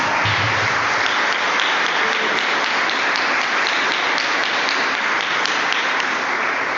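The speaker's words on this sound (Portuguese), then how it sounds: "Vamos aplaudir ao Senhor e vamos em paz para a nossa casa." A church congregation applauds in praise, a dense, loud, continuous wash of many hands clapping that holds steady for several seconds with no voices rising above it.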